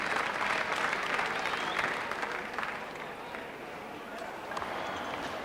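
A 50,000-strong Melbourne cricket crowd applauds a century by a left-hander, a broad, sustained roar of clapping that eases slightly midway and carries on steadily.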